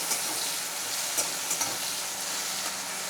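Onions frying in a pan to a light golden red, a steady close sizzle and hiss with a few soft stirring clicks, no talk.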